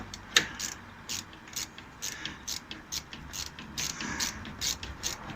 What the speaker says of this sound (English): So my next plan is to remove this bolt,